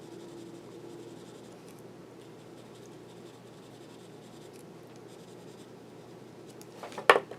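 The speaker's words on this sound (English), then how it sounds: "let's go ahead and put a little bit here, very light touch. I'm barely touching the paper." Ranger Distress watercolor pencil dragged lightly across paper, a soft continuous scratchy whisper that stays faint, ending with a short sharper scrape.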